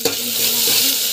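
Vegetables sauté in hot oil in a pressure cooker over a tempering of mustard seeds, cumin and chana dal, giving a loud, steady sizzle with stirring scrapes throughout.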